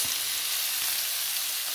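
Sausages sizzle and fry steadily in a hot frying pan, a continuous close crackling hiss with no talk over it.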